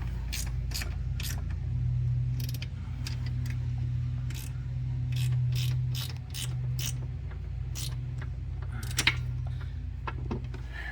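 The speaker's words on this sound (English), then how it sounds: "I'm tightening up that side first to hold it in place when I tighten the rest" Ratcheting clicks from tightening the mounting bolts on a winch assembly for a 1991 Rockwood Premier pop-up camper, sharp irregular clicks in short bursts over a steady low mechanical hum.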